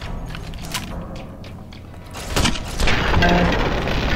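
A pulse grenade fired from a grenade rifle in Fallout New Vegas bursts with a heavy boom partway through, followed by a sustained crackling electrical rumble.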